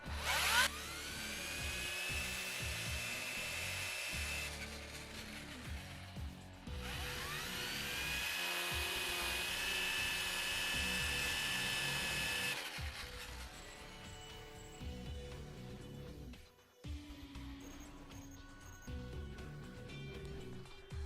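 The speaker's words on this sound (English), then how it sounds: "let me show you another thing I like to do with the weed eater" A string-trimmer weed eater trims grass along a lawn, its engine whining steadily and loud for the whole stretch, rising and dipping as the throttle changes, with no talk.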